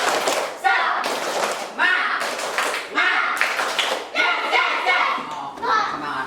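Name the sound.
class clapping together in a rhythmic cheer clap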